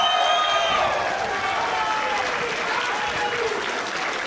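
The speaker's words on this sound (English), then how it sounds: "let's hear a huge round of applause for both of these warriors putting on a great show" A crowd at a Cagezilla 62 cage fighting event applauds both fighters after their bout: loud, continuous clapping mixed with crowd noise and cheering throughout, steady from start to finish.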